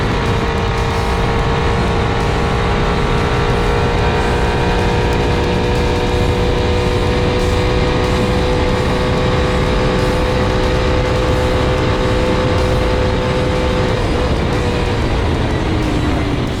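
Race truck in an off-road motorsports race speeding along at over 100 miles an hour, a loud, sustained engine roar with steady droning tones heard from close up, shifting slightly near the end.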